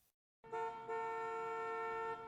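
Car horn honking on an official police escort vehicle: a steady, loud sustained blast after a brief silence, holding for nearly two seconds with a short break, no talk.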